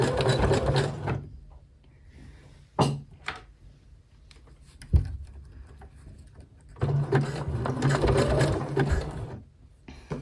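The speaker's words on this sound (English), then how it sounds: "Pop it in. Going to do some securing stitches." A sewing machine runs securing stitches through braided elastic on leggings, with two steady motor-driven stretches of needle chatter up close, split by a quiet pause and a few sharp handling knocks.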